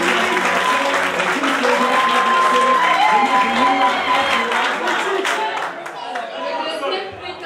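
An audience at a youth employability fair's closing ceremony applauds a prize winner, with sustained dense clapping and crowd chatter mixed with some cheering. It fades slightly toward the end.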